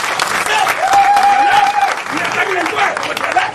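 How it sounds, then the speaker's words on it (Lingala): An audience applauds a head of state with dense, steady clapping, while a voice rises over the ovation, speaking or calling out through the middle of it. "Acclamer encore pour chef d'État"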